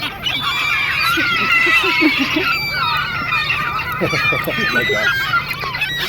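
Seagulls being fed bread give loud, overlapping squawks and cries close by, the harsh calls continuing throughout as a person exclaims briefly over them.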